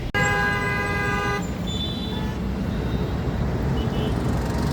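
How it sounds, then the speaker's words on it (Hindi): Car horns honk in a traffic jam near a highway toll, with one long sustained blast followed by shorter, fainter toots over a constant rumble of idling vehicles. "यहाँ पे बहुत सारी गाड़ियों का लगता है जाम।"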